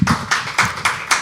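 An audience claps in a few loud, evenly spaced unison beats, close by, after a poet finishes reading at an open mic.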